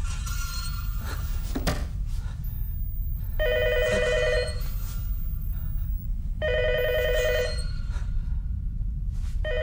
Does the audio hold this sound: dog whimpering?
no